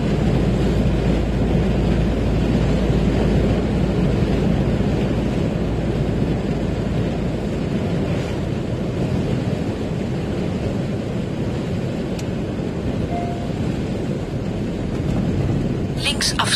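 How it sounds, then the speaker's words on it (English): Strong wind gusting outdoors near a bent-over tree, a steady loud broadband roar buffeting throughout with no break. "you can probably hear that the wind's quite strong"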